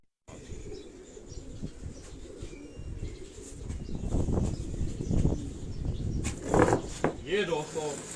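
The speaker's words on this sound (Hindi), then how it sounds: "ये वो कबूतर है जिस कबूतर का मैं आपको शौक करवाने जा रहा हूँ" A pigeon coos softly from a rooftop loft, low murmuring calls sitting under a man's nearby speech, with a few brief rustles and flutters of wings.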